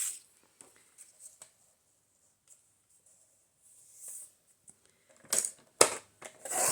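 Scissors cutting paper ephemera for a junk journal, heard as a few quiet, sparse snips and rustles in a near-silent room, with a quick burst of crisp cuts toward the end.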